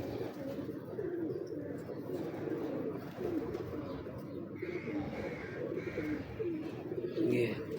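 Breeder pigeons in a fancier's loft coo steadily and softly up close, layered over a dense low murmur of birds, with occasional brighter chirps.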